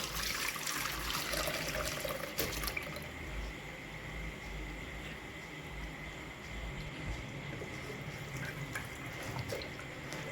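Water pours and splashes through a sieve draining boiled mustard leaves, louder for the first few seconds, then settling into a steady trickling drain.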